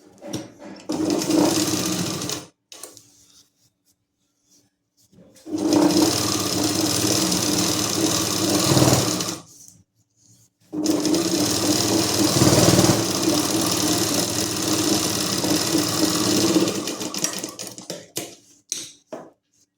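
An electric sewing machine stitching the bottom strip of a salwar, running in three bursts of rapid, steady whirring and clatter separated by short pauses, loud and close.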